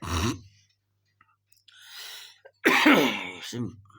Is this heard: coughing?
yes